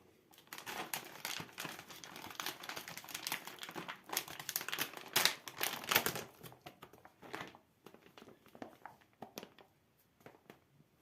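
A plastic bag of German Prot 9000 isolate protein powder is opened and handled, giving close crinkling and rustling with a few sharp tearing bursts that then settle into softer scattered crackles.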